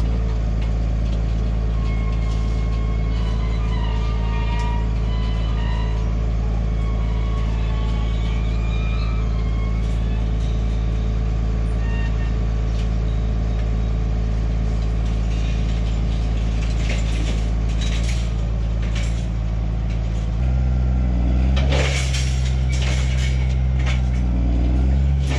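Tractor holding a steady idle as the harrow hydraulics fold it up into transport mode, with metallic creaks and clanks building near the end over the constant engine drone.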